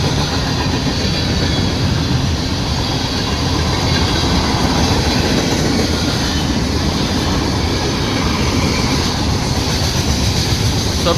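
A CSX train passes on the rails close by, a loud, steady roar of wheels and rumbling wagons that continues without a break.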